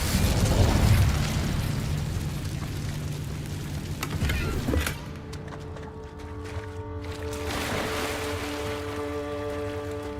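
An Incendio fire spell in Hogwarts Legacy erupts with a rumbling, fiery whoosh and bursts that fade into a quieter hum of game sound and tonal music.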